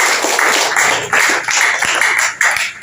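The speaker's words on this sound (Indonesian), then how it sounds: "Tepuk tangan untuk kelompok." A classroom group claps for a presenting group at a teacher-training session, the applause coming in loud, rhythmic bursts of hand claps, close and without talk.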